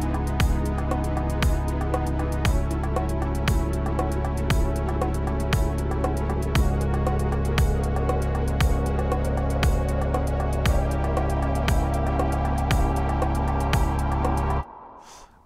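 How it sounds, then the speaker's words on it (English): A Korg Wavestate patch recreating a song intro plays a steady four-on-the-floor drum pulse over a deep sustained bass and Juno-style pad, with a rising wind effect sweeping upward before everything cuts off near the end. "it starts the drums, the bass, and this cool wind effect"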